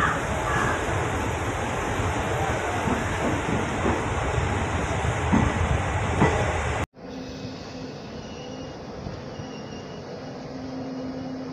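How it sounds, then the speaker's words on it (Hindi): A passenger train pulls into Mankapur junction station on the Bahraich to Varanasi Intercity Express route, loud rumbling and rattling of railcars up close, with crows cawing nearby, then an abrupt shift to a quieter, steadier rolling hum. "मनकापुर जंक्शन पर अपने ट्रेन का अराइव होते हुए"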